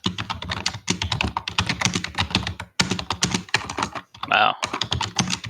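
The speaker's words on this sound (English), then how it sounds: "Wow. Loud typing." Loud mechanical keyboard typing, rapid clattering keystrokes in dense bursts with short pauses, close to the microphone, with a brief voice sound near the end.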